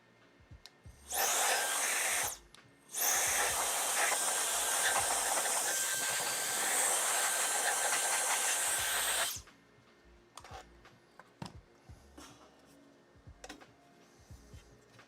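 Compressed air hisses in two steady blasts, a short burst then a long sustained one, blowing debris out of a Skywalker V1 lamp housing during a bulb change, followed by faint handling clicks.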